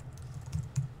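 Computer keyboard typing, with a couple of soft key presses standing out over a low steady hum, quiet and close.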